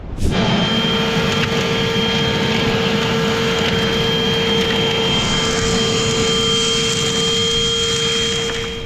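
Battery-powered vacuum running steadily while prospecting for gold among big rocks, a loud continuous motor whine with a high tonal hum and gritty rattle of material being sucked up, no talking.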